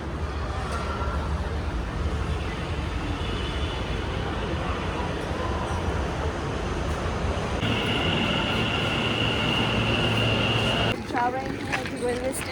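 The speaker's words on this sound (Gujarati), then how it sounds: "અમે લોકો મેટ્રોથી ટ્રાવેલ કરી રહ્યા છીએ આજે" A Mumbai metro train running, heard as a loud, steady rumble and rattle of the carriage that continues throughout, with people talking in the background near the end.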